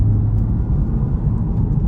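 An FL5 Honda Civic Type R with its center muffler deleted, in sport mode, pulls away gently under easy acceleration, giving a deep, loud, steady exhaust rumble from inside the cabin.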